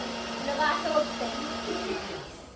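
A kitchen mixer grinder whirs steadily at a moderate distance, its even motor drone running throughout while people talk over it.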